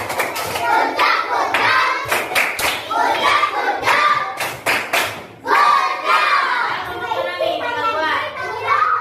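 Schoolchildren in a Pancasila classroom lesson clap a tepuk gojak routine in quick rhythmic bursts, mixed with lively children's voices and a teacher talking.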